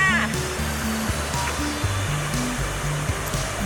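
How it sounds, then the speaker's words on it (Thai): Continuous rushing water from a low waterfall tier at Huai Yang Waterfall National Park, Thailand, a steady broadband hiss with faint low tones layered underneath. "มีสายน้ำตกเตี้ยๆอยู่"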